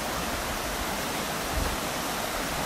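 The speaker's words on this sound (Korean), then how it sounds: "계곡 물소리조차" Rushing mountain stream water flows steadily in a valley at a campground, a dense, close hiss and gurgle with no pauses.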